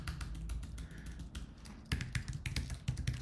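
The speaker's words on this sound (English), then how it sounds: "type my email address" Rapid typing on a computer keyboard, entering an email address: dense, uneven bursts of close key taps with a short pause midway, loud and clear with no talk.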